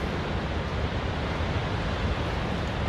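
Steady roar of strong wind and heavy rain beating on a tent during a storm, a dense, unbroken wash of noise that stays loud and close throughout with no pauses.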